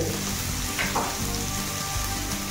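Sliced onions sizzle in hot oil with panch phoron for an Odia snake gourd curry, a steady, close crackling fry with no voices.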